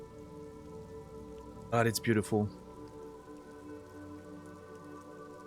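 Steady rain patters on surfaces throughout a grey, stormy scene in the video game Disco Elysium, a soft continuous hiss under a brief burst of nearby speech.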